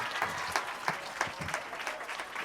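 A modest crowd claps for an immigration officer at a donation event at a primary school in Sierra Leone. The claps are fairly close and individual ones are distinct, running continuously at moderate volume.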